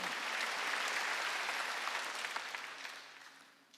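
A church congregation bursts into sustained applause, a dense wash of many hands clapping that holds steady and then fades away over a few seconds, with no talk over it.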